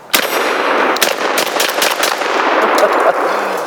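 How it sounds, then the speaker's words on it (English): A shotgun fires double-aught buckshot outdoors. Loud sharp blasts come in quick succession over a noisy, echoing background, with a metallic ring near the end. "that was a double aught"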